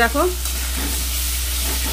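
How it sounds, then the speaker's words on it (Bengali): Fish fat frying with no oil in a dry wok, a steady crackling sizzle with faint stirring, while someone says a brief word at the start. "তেল ছাড়া দেখো মাছের তেল ভাজি দারুণ হচ্ছে"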